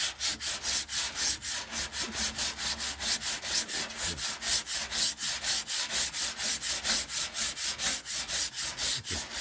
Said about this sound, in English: this is 60 grit sandpaper